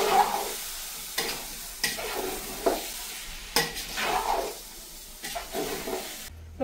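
A spiced biryani mixture frying in a pot, with a soft sizzle under repeated stirring and scraping strokes of a utensil against the pot, close and moderately loud.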